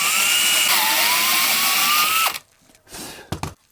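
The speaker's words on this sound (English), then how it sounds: "Now, I'm gonna put this step drill bit in here, and wherever we wind up, we want to go one size larger" A power drill drives a step bit to enlarge a hole in a guitar body in one sustained, loud whir of about two seconds that drops slightly in pitch under load, then cuts off, followed by quieter handling clatter.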